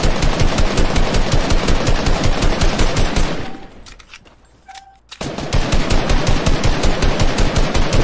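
Rapid automatic gunfire in a Fortnite match, loud and close, firing in long continuous bursts that stop for about two seconds mid-way before resuming just as densely.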